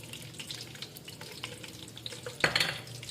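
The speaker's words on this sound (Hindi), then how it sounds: "इनको थोड़ा फ्राई करेंगे इसके साथ।" Raisins, coconut and almonds fry gently in a pan for jaggery rice, a soft crackling sizzle with light stirring taps, ending in a brief louder burst of spluttering.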